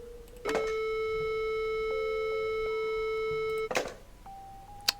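A telephone in the game ROAM0120.EXE gives off a steady electronic tone that holds for about three seconds between two clicks, followed by a softer, higher tone near the end.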